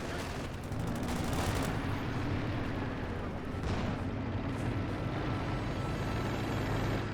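A machine gun turret fires in Company of Heroes 2, its rattle buried in a dense, continuous roar of battle noise with heavy explosions and artillery thuds throughout.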